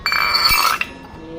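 Small and large glass dishes and a glass clink together in a brief, close, bright chime, then fall quiet.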